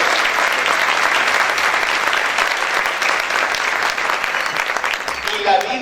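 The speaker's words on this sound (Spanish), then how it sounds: "Aplaudir fuerte al Señor" A church congregation applauds loudly and steadily at a religious service, dense clapping filling the space, with a voice speaking over it near the end.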